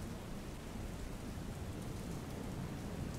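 Heavy monsoon rain pours down in Mumbai, a dense, steady hiss of rainfall with a low rumble underneath, unbroken and fairly loud throughout.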